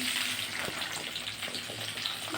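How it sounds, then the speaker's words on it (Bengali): Beans, pointed gourd, eggplant and other vegetables fry in hot oil with a steady, close crackling sizzle, broken by light stirring scrapes. "আমি এগুলো লাল করে একটু ভেজে নিচ্ছি।"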